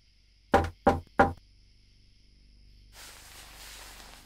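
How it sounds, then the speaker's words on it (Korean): Three firm knocks on a door in an audiobook sound effect, evenly spaced and close, followed by a low hum and then a soft hiss that fills the rest of the moment. "다시 한번 노크 소리가 들려왔다"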